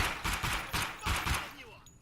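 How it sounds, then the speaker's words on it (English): Gunfire aimed at the player in Escape from Tarkov, a rapid burst of about five loud shots followed by a fading tail. "Now I'm getting shot at by a player, I think."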